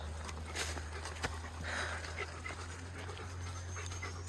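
A dog pants steadily on a narrow, green backcountry hiking trail at Fort Mountain State Park, quick rhythmic breaths close by over a low steady hum and outdoor background noise.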